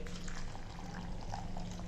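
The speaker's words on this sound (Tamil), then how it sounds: "இப்போ இதில் தண்ணி ஊற்றி" Water poured over 100 grams of rolled oats in a bowl, a steady close splashing pour running about two seconds with no speech.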